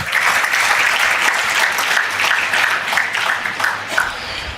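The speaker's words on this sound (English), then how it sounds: "please give a huge round of applause for our moderator, Mr. Dinyar Patel, sir" A large audience at an HR leadership summit in Pune applauds the moderator with loud, sustained clapping that holds steady and tapers slightly near the end.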